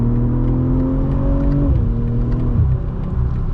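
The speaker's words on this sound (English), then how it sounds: "This inline 6 sounds great" A 2024 BMW M340i xDrive with a 3-liter inline-six engine pulls hard under acceleration, its steady, smooth drone rising in pitch, dropping at each upshift around two and three seconds in, then climbing again, heard from inside the cabin.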